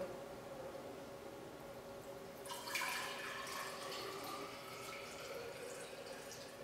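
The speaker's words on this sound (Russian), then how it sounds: "Нам нужно ее заполнить полностью водой." Water pours from a tap into a glass flask, starting abruptly partway through as a steady splashing fill that continues to the end over a quiet room hum.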